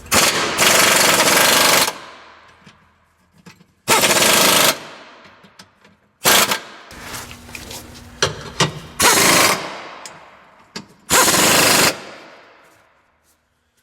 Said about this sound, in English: I suppose it would help if I put a socket on my impact.